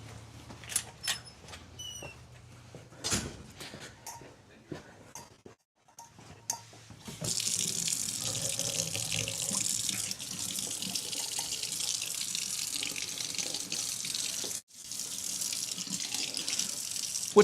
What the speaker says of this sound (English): I gotta wait for some warm water to come out